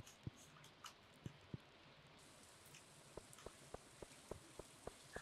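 Rain patters softly on a rainy day in the farming video game Stardew Valley, a faint steady wash dotted with distinct drop ticks that fall in a fairly regular rhythm.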